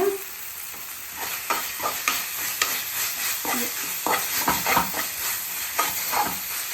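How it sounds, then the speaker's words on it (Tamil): Onions sautéed in hot oil for a goat leg gravy, a steady sizzle broken by repeated scraping strokes of a spoon stirring through the pan, close and fairly quiet. "நல்லா இது வதக்கணும்"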